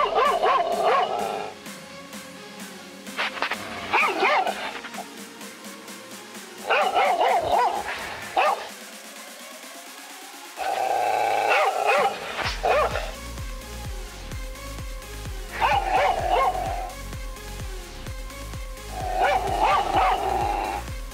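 A recorded dog barks through the speaker of a homemade motion-sensor alarm, playing loud repeated bursts of barking and yips separated by short pauses, close and clear with no voices.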